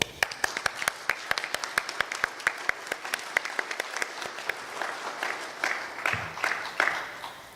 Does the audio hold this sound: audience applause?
yes